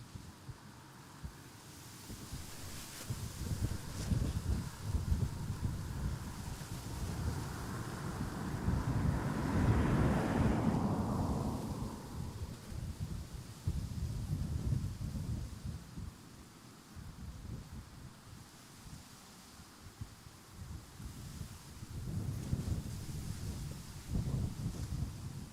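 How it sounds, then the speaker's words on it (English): Gusty wind at Schiphol Amsterdam Airport roars across the microphone in a broad, rumbling wash that swells to a peak midway, then eases and surges again, with no voices. "Definitely the wind is picking up a little."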